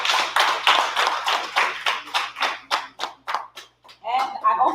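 A small group claps at a 2024 event in Ghana, close and loud, the strokes starting dense and rapid, then thinning into separate, slower claps that fade out before a short burst of clapping returns at the end.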